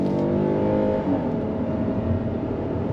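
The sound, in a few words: Kia Telluride SUV accelerating from a dead stop in sport mode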